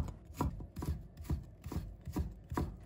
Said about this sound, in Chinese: 再准备1块去皮的生姜，把它切成薄片，再改刀切成丝